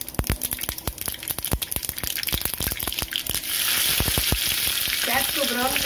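Chopped onions hit four tablespoons of hot oil with popping mustard seeds for a green moong and ridge gourd salan, sharp crackles and pops giving way to a loud, steady, close sizzle.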